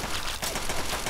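Rapid burst of gunfire in Fallout 3, a dense crackling volley filling the whole short moment at close range, with no voice over it.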